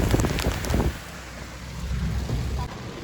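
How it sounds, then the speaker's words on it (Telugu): Heavy rain drums on a moving vehicle under a steady wind-like rush, louder at first and then settling into a constant downpour. "మామూలుగా పడట్లేదండి వాన మాత్రం"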